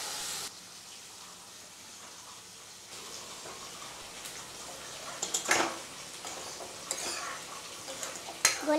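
Fish fries in a pan of oil in a home kitchen, giving a soft continuous sizzle with a few sharper clatters and bursts of spattering toward the end, and no talk.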